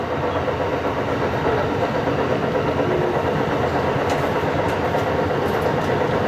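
Shore Line East passenger train riding behind its locomotive, a steady close rumble of the railcar with faint clicks of wheels over rail joints, no talking.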